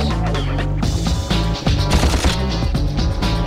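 Rapid blaster gunfire from a Ratchet & Clank video game, shooting at flying vehicles: loud, dense bursts of shots with crashes and booms layered over game music, continuous throughout.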